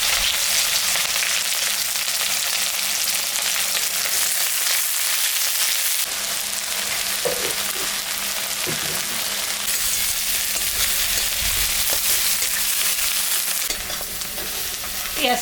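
Onions sizzle in hot mustard oil with cardamom, cinnamon, dried red chili, cumin and garlic, a dahi chicken base. The frying crackles loud and steady, broken by occasional stirring scrapes.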